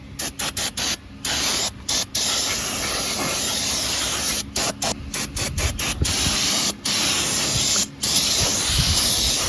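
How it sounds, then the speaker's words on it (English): A loud, close aerosol can of brake cleaner hisses in repeated bursts, some short and some long, separated by brief pauses, spraying residual oil off brake parts of a Saturn Vue. "I'm going to take the brake cleaner and I'm going to spray off any residual oil"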